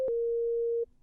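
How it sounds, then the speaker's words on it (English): A synthesizer plays a single pure sine-wave tone, a clean steady mid-pitched beep lasting just under a second and then cutting off, heard alone. "sine wave,"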